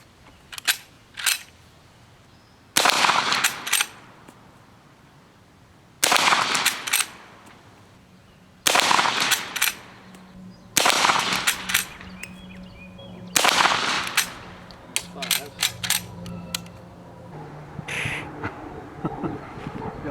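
Winchester 1873 lever-action rifle fired at targets in a backyard range, about ten sharp, loud shots coming singly or in quick pairs, with short ringing tails and gaps of a few seconds between them.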